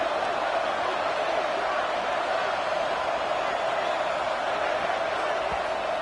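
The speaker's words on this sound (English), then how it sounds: "Listen to the crowd energy here in the early going." A packed stadium crowd at an Auburn vs. Ole Miss college football game gives off a steady, dense roar that holds constant throughout without any breaks.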